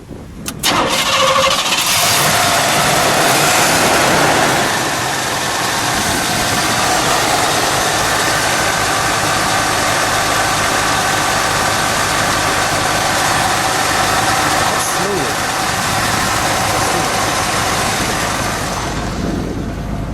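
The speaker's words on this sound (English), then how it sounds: "All right, let's fire it up, shall we?" A 1967 Buick Riviera V8 engine cranks and fires up with a burst, then settles into a loud, steady, rumbling idle that continues throughout.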